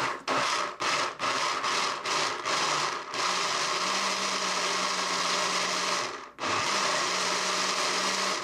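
A blender grinds washed, mostly peeled soybeans, about 300 ml. It starts with several short bursts, then runs in a loud continuous grinding whir, stops briefly and restarts.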